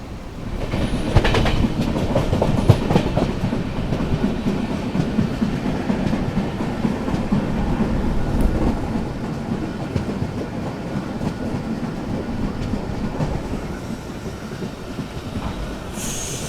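Thirukkural Express passenger train running on rails in the rain between Chennai and Vijayawada, a steady close rumble of wheels and carriage with occasional clicks and squeals, continuous for the whole stretch, no voices.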